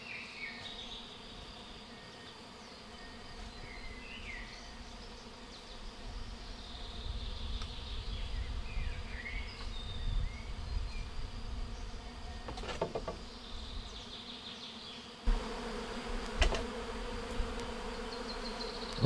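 Honeybees foraging around shrub branches at a garden hive, a steady, close insect buzz with fluctuating loudness that persists throughout, no talking.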